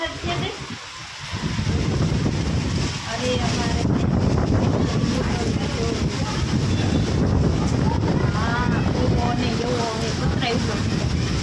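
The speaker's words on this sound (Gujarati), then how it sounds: "ફૂલ પવન ને વરસાદ છે ઉનાળામાં" Strong stormy wind roars and buffets the microphone with a dense, continuous rush during heavy summer rain in Rajkot, with voices audible under it.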